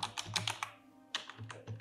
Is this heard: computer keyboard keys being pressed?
yes